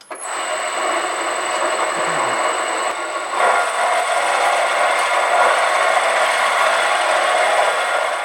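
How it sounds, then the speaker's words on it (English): A lathe bores a hole into an aluminium clamp that will hold a stainless steel insert, producing a steady, loud, continuous metallic machining whir and hiss throughout, close up, with no talking. "so now I'm going to bore a hole in here"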